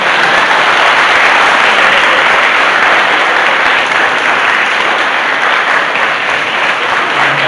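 Loud, sustained applause from a lecture audience, dense and even from start to finish without any talk.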